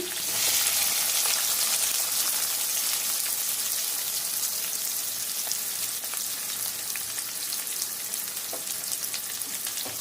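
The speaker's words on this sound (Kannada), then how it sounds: "ಈರುಳ್ಳಿ ಚೆನ್ನಾಗಿ ಫ್ರೈ ಆಗಲಿ. ಈರುಳ್ಳಿ ಇವಾಗ ಸ್ವಲ್ಪ ಫ್ರೈ ಆಗಿದೆ." Onions frying in oil with mustard seeds and green chillies, a dense, steady crackling sizzle close by, fading slightly over the stretch, with no talking.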